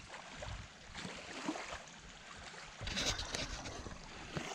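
Small waves lap gently against a lakeside campsite shore, a steady soft wash of water with slight swells in loudness and no voices.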